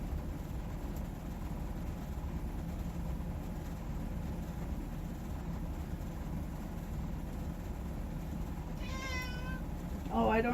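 A house cat gives a couple of short meows near the end, rising and wavering, over a steady low room hum.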